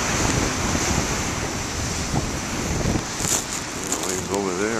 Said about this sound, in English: Waves over there, cool.